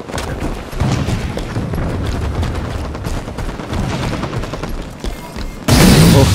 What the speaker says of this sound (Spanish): ¿Quién está disparando eso?